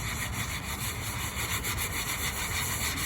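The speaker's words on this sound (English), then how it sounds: "Now I'm just going to grab a couple smooth sanding blocks." Steady rhythmic rasping of hand sanding on wood, close by, continuous back-and-forth strokes without any talking.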